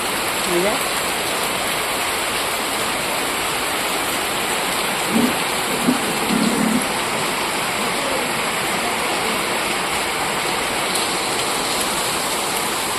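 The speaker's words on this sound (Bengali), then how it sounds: "এই যে বাইরে এরকম ঝমঝমিয়ে বৃষ্টি হচ্ছে" Heavy rain pours outside in a continuous dense hiss that holds steady throughout, with brief faint sounds from indoors partway through.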